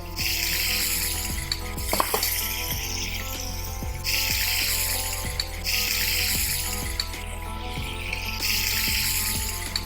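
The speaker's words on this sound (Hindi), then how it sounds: "इस तरह से स्लो फ्लेम पे हम इसको फ्राई कर लेंगे।" Something fries in a pan over a slow flame, giving a steady bubbling sizzle with occasional utensil clinks, under a loud continuous low hum and with no speech.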